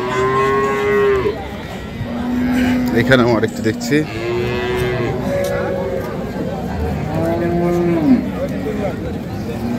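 Cows and dairy cattle moo loudly and repeatedly at a rural cattle market, several long drawn-out calls rising and falling close by, with people talking and market chatter underneath.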